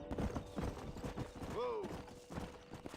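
Horse hooves clopping in Red Dead Redemption, a quick, uneven clatter of hoofbeats nearby, with a brief whinny-like call partway through and a voice speaking at times.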